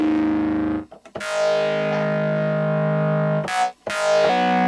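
Bleass Alpha iOS synth with pre-drive distortion producing rich, buzzy sustained tones, held notes with short gaps between them, loud and harmonically dense, no voice.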